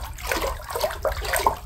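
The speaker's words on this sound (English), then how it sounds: "let me drop it once in water" Waterproof phone drops into bathwater, giving close splashes and gurgling, trickling water in a few short bursts.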